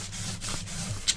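Paper being burnished down by hand over a layer of glue for a Halloween album craft project, giving a soft, continuous close-up rubbing and scraping texture with one brief sharper scuff near the end.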